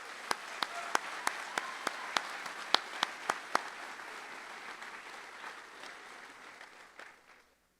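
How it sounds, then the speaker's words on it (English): Audience applause at a 2022 graduate hooding and commencement for Central Washington University, a soft crowd ovation with a few sharp nearby claps at first, then steady clapping that fades out. "Please join me in a round of applause for the leadership of Central Washington University."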